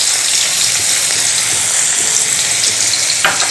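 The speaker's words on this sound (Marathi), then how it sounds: "हिंग थोडासा परतला की यामध्ये लगेचच आपल्याला हा कांदा घालायचा आहे" Onion hits hot oil with cumin and asafoetida and sets off a loud, close, continuous hissing sizzle that stays strong without a break.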